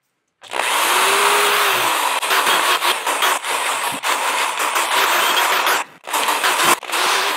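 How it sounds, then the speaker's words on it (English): A power drill whirs steadily through several short bursts, briefly stopping and restarting between holes, loud and close. "now I'm gonna drill some smaller holes"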